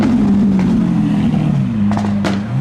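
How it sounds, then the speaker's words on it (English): A Lamborghini rolls into a car meet of modified cars, its engine droning loud and close with a wavering low tone that dips and rises as it moves past. "Lamborghini arriving."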